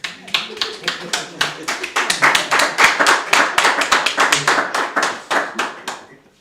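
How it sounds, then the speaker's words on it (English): Rhythmic group clapping from an audience at a live stream event, with claps in a steady regular beat; a voice or crowd murmur sits underneath. "You can clap for that too."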